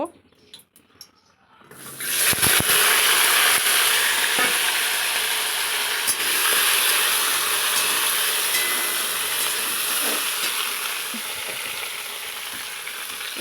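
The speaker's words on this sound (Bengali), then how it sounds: "এই দেখো বন্ধুরা তেলটা গরম হয়ে গেছে এবার পটলগুলো ভেজে নিব" Pieces of pointed gourd (potol) hit hot oil in a pan, a sudden loud sizzle that stays steady and dense, easing slightly toward the end.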